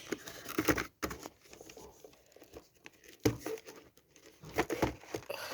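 Plastic packaging of a pencil case being crinkled and torn open by hand, close and fairly quiet, in several bursts of crackling with short pauses between them.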